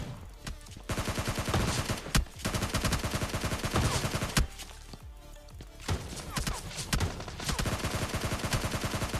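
Gunfire in the PUBG Lite video game, rapid automatic bursts and repeated sharp shots crackling in clusters, loud and close, with brief gaps between volleys and no speech.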